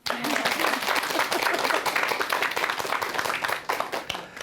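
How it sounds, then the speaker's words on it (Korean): Audience applause at a lecture for a woman named Kim Mi-jin, a dense, full wash of clapping from a crowd, steady and fairly loud, thinning out in the last second with scattered final claps. "김미진 씨에게 박수 한번 주세요."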